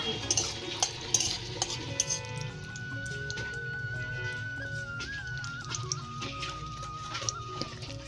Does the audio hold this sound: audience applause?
no